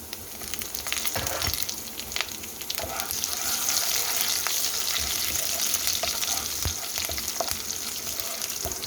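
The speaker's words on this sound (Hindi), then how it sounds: "ये मैंने लहसुन को बारीक काट लिया है, इसको हम थोड़ा सा फ्राई करेंगे" Finely chopped garlic with cumin and red and green chillies sizzles and crackles steadily in hot oil for a dal tempering, a dense close frying hiss with occasional stirring clinks throughout.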